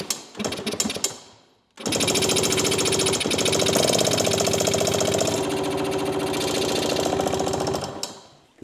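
An old Yamaha parts-bike motorcycle engine fires and runs roughly, a loud close rapid chattering putter after a few stuttering tries, holding for several seconds before cutting out, with no talking.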